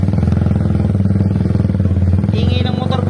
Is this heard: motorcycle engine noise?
yes